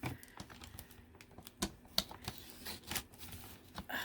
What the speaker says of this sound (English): Let's see if my cutter can handle all these envelopes.